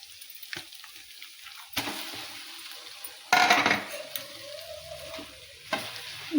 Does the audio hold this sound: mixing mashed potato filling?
yes